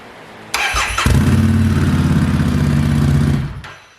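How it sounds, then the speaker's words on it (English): A Harley-Davidson Street 500 with Vance and Hines exhaust cranks briefly, then fires and settles into a loud, close, rumbling idle for a couple of seconds before it fades. "Fires right up. Wow, that fired up quick."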